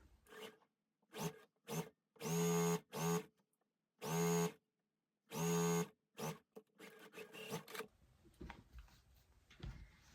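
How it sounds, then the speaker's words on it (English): A sewing machine stitches the final seam of a Goose Chase quilt block, running close by in short stop-start bursts of whirring motor hum before settling into a longer, quieter stretch of rustling and handling. "now we're just sewing the last seam of the block"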